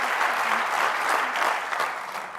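An audience at the Earthshot Prize Innovation Summit claps in a thick, even burst of applause that holds steady and starts to taper near the end.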